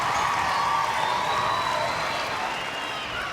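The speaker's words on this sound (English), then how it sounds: "Listen to the crowd here in Adelaide." Home crowd at an Adelaide Thunderbirds netball match cheering after a win, a loud, sustained roar with whistles and whoops filling the arena.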